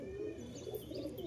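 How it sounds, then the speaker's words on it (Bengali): Female betting pigeons coo softly in a low, repeated murmur, with faint chirps above a steady background noise. "খুবই ভালো মানের কবুতর, মাদি কবুতর আছে।"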